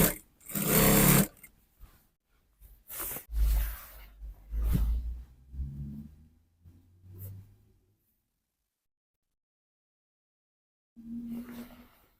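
A sewing machine running a gather stitch around the upper part of a milkmaid dress, whirring in short bursts with handling noises, then a pause before another brief run.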